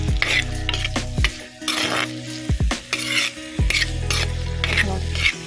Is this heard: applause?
no